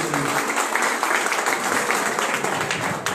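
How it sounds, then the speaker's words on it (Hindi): Crowd applause at a live event in Fatehabad, a steady rush of many hands clapping, fairly loud and continuous with slight swells, some voices faintly mixed in. "जोरदार तालियां होनी चाहिए भाई के लिए"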